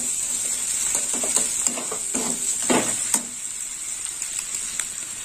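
Spice masala with tomato frying in a pan for chicken curry, a constant bright sizzle with repeated scraping and clacking of a spoon as it is stirred, close and steady with no speech.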